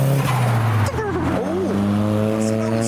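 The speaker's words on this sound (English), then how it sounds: "an M2 something I maybe, in the car park doing skids" A BMW M2 doing skids in a car park at a car meet, its engine droning steadily with rising tire squeal, while other engines idle nearby and voices murmur in the background.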